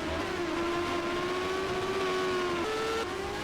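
Race car engine droning steadily in the Monaco pit lane during the 2024 Grand Prix, a continuous loud tone that holds pitch with small shifts, near and constant, with no talk.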